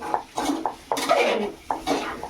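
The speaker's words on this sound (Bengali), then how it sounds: "আলু দিয়ে মশলাটা কষে নিচ্ছি" Spice paste and potatoes are sautéed in a pan: a few short, fairly soft metallic clinks and scrapes of a spoon stirring against the pan, in quick irregular bursts.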